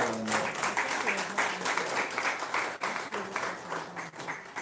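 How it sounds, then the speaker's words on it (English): A round of applause at a trauma care counseling session: scattered hand claps ripple through the room for several seconds, with a voice talking over them. "A round of applause for Dr. Kyle"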